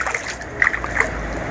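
Water sloshes and splashes inside a plastic fish-market box filled for a pigeon's swimming exercise, a few short, close splashes over a faint background.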